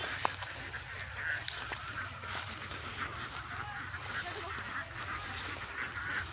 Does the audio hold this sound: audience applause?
no